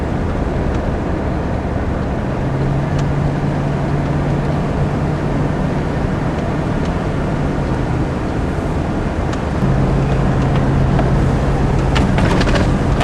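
A car coasting downhill in first gear on a forest road, with a steady loud drone of engine and road noise throughout and a low engine hum that comes and goes.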